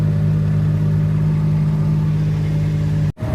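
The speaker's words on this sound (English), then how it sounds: "I even get to drive the Kubota, the K truck of America." Kubota K truck, a small kei-style utility vehicle, with its engine running at a steady drone throughout while driving, a low hum with harmonic overtones that cuts out abruptly just before the end.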